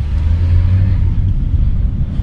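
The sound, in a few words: VW Polo barn find car driving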